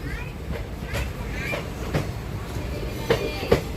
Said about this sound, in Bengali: এই লাইনটা হাওড়া থেকে আসছে ট্রেন আমাদের ঢুকছে ব্যান্ডেল